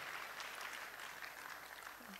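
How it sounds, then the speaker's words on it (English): Audience applause at a medical college induction and graduation ceremony, a steady, even wash of many hands clapping at moderate distance, continuous throughout with no voices standing out. "Please, a round of applause again for them."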